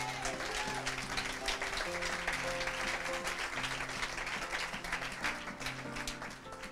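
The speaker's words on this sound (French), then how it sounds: "Quelqu'un donne gloire à Dieu par ses acclamations" A church congregation applauding and cheering to glorify God, a sustained wash of clapping from many hands with sustained music underneath, sounding moderately distant.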